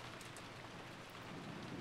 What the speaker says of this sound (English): Outside, the rain was no longer falling weakly.